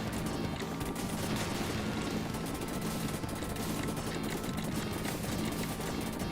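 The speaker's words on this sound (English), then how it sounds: "Now we got rapid fire cannon." Rapid-fire cannon shots in the Super Contra arcade game, a dense continuous barrage of gunfire blended with game music and effects, steady and loud throughout without pause.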